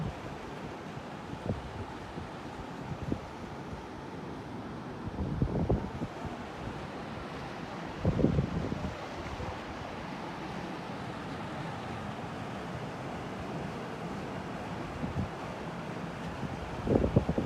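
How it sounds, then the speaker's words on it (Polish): Rushing water from a waterfall near Tbilisi pours in a steady, continuous wash, with wind buffeting the microphone now and then and no voices. "Woda ładnie płynie."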